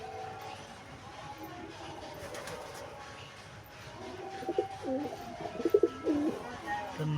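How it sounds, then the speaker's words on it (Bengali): Pigeons coo nearby, a Madras hen paired with a local Giribaj cock. The soft rolling calls build toward the end over a low background rumble, with faint talk in the mix. "মাদিটা আছে ম্যাড্রাস, আর নটটা আছে দেশি গিরিবাজ"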